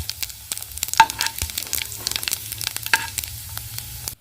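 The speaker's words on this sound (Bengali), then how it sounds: "লঙ্কা ভাজা হয়ে গেছে, আমি পাঁচফোড়ন দিয়ে দিচ্ছি" Panch phoron spices dropped into hot oil with already fried chillies, giving a soft crackling sizzle with scattered sharp pops, close up and otherwise quiet.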